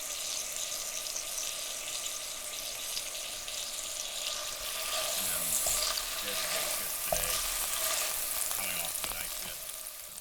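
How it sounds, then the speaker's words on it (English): Bacon fries in a pan at a rainy campground, giving a steady crackling sizzle throughout with a few clinks and stirring sounds partway through. "So, bacon. Crispy."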